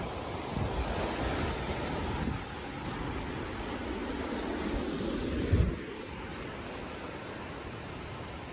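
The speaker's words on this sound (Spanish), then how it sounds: "Y el lindo mar." Sea waves wash onto a busy beach in a steady roar mixed with wind noise on the microphone, with one louder surge near the end before the wash settles again.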